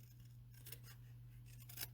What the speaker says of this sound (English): I'm going to trim this with my scissors.